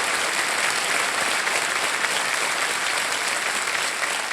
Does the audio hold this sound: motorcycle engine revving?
no